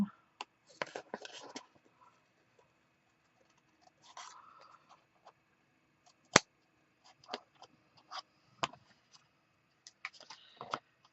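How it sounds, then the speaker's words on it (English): Big scissors trimming chipboard pages for a handmade mini album, heard as several separate snips and crisp cuts spread across the stretch, close and fairly quiet, with pauses between them. "Look at me with these big old scissors making mistakes."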